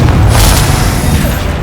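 A loud, deep boom from a Confringo blasting spell in Hogwarts Legacy, a single heavy explosive burst with a rumbling low end that holds for the whole short moment.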